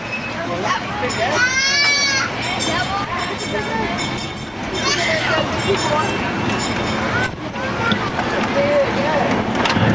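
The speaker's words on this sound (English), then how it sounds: "This area of the zoo right here, we have our sheep and goat pen." Sheep and goats in a zoo pen bleat several times at close range, with wavering calls rising over steady outdoor background noise, while people talk nearby.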